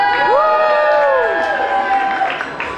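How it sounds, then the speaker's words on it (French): A cabaret audience cheering and clapping, with high whoops and shouts rising and falling over a dense crowd roar that holds loud and close, then thins slightly toward the end. "vous avez raison d'applaudir et de vous chauffer la voix"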